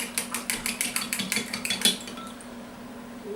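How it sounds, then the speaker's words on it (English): A spoon stirs sugar and salt into warm bagel dough liquid in a bowl, a quick run of about a dozen bright metallic clinks and scrapes, close and fairly soft, then trailing off into quiet. "dump the sugar in, dump the salt in, give it a stir"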